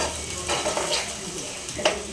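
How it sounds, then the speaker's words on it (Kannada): Tempering (oggarane) sizzling in a hot pan for a sprouts-and-greens palya, a crackling hiss with short bursts of spluttering as the spices hit the oil, close up, with a faint clink of a utensil. "ಒಗ್ಗರಣೆ ಹಾಕ್ತಾ ಇದ್ದೀನಿ"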